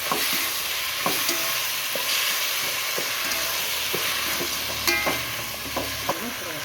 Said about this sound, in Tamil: இப்போ ஜோகட்டையும் நல்லா கிளறி விட்டுக்கிறோம்